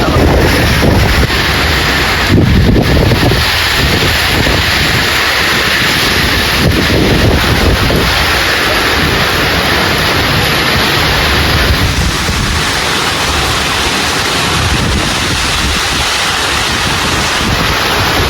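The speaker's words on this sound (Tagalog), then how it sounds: "Grabe, ang lakas ng hangin po." Strong typhoon wind roars continuously across an open coastal area, a loud, dense rushing with microphone buffeting and gusting surges throughout.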